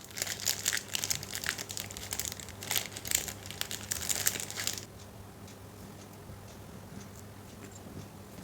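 Cloth tape for pinning a saree pallu is handled up close, with busy crinkling and crumpling rustles for about five seconds before it drops to a quiet, faint background with occasional light ticks.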